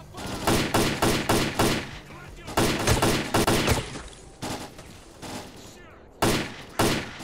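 Bursts of rapid gunfire in the video game S.T.A.L.K.E.R.: Clear Sky crackle in short volleys, some loud and close, others fainter, with brief pauses between them.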